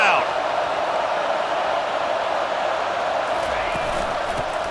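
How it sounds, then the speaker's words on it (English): Dense stadium crowd roar from the College Football 25 video game, Notre Dame at Texas A&M, swelling during a fourth-down defensive stand; a steady, loud wash of noise holding throughout with faint whistles on top. "Listen to this crowd."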